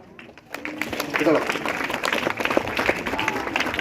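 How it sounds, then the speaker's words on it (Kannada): An audience claps and cheers at a school event in a hall, a dense burst of applause that swells after a brief start and carries on steadily, loud and close. "ಅದು ಸರ್ ಜೋರ ಚಪ್ಪಾಳೆ ತಟ್ಟಣ"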